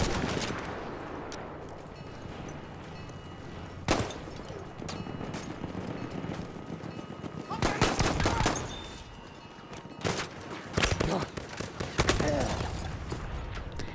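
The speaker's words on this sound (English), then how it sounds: "right now I'm just using the default rifle in the medic class" Rifle gunfire in Battlefield 1 from the medic class's default rifle, repeated sharp shots and short bursts over constant battlefield rumble, with distant explosions and a voice speaking at times.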